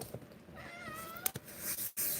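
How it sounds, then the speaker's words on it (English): Domestic cat gives a single drawn-out meow, close and fairly clear, with a brief rustle before and after. "That's my cat."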